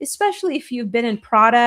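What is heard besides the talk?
No everyday noise stands out behind the speech.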